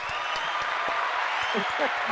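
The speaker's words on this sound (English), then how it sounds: "Let's give her another round of applause." Crowd clapping continues steadily at a moderate distance, with a few faint voices mixed in underneath.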